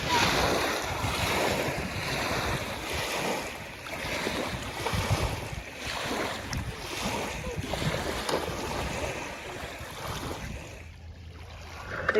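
Surf rolls in at City Beach in steady, repeating washes, with wind buffeting the microphone over the whole stretch and a brief lull near the end.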